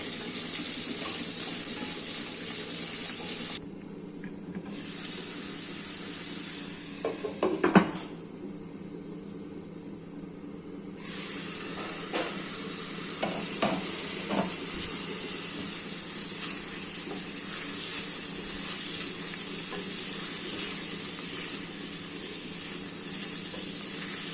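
Onions cooking gently in a pan for a Telangana-style onion curry, with a soft steady sizzle that runs throughout, along with a few clinks of a utensil against the pan and brief quieter gaps.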